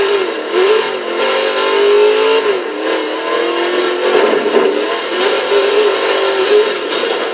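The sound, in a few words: 1972 Chrysler Valiant Charger engine revving in Forza Horizon 3 video game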